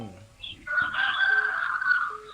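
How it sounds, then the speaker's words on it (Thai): A rooster crows once, loud and close, in a long drawn-out call lasting over a second, alone with no talk over it. "ไก่ขันดีเนอะ"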